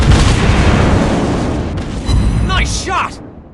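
Shells hit an enemy warship in the Warships Blitz naval battle game: a loud booming explosion rumbles and fades, a second blast follows near the two-second mark, and excited voices speak over the end.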